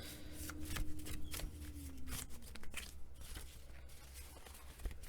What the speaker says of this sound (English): So these are also my handmade cards here. So they're not the best to shuffle